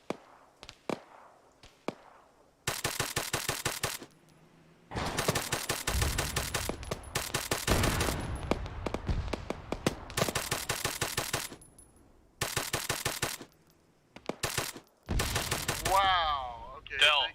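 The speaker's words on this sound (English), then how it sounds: "we're taking very accurate fire over here." Gunfire in Arma 3: repeated bursts of rapid automatic shots in several volleys, loud and sharp, with single cracks and brief pauses between salvos.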